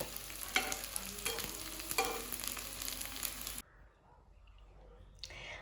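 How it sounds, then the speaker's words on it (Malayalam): Taro leaf rolls crackle and sizzle busily in deep frying oil on a medium flame with sharp pops for a few seconds, then drop abruptly to a quiet, faint hiss before a brief final burst. "എണ്ണ ചൂടായി കഴിഞ്ഞാൽ നമ്മൾ മീഡിയം ഫ്ലെയിമിലിട്ടാണ് ഇത് ബാക്കി വറുത്തെടുക്കേണ്ടത്"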